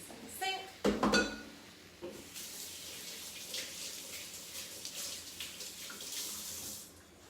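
Water runs from a tap into a kitchen sink as a waffle batter bowl is rinsed, a steady close rush of splashing with a couple of clanks of the bowl near the start.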